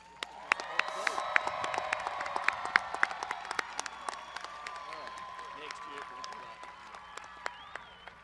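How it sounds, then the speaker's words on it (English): A high school graduation crowd applauds the graduating class, scattered sharp claps and cheering rising loudly at first then thinning out toward the end, with some voices mixed in. "Let's give these graduates a round of applause."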